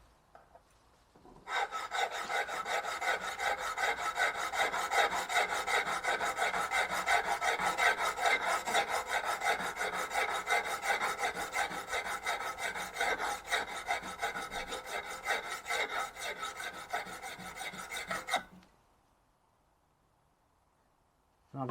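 A file rasps steadily against the inside edge of a drill bit resting on timber, a long continuous run of quick close strokes that stops abruptly into near silence.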